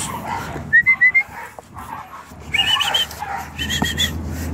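A Belgian Malinois puppy whimpers in short, high whines, then gives a few soft yips and barks, fairly close, with some background rustling.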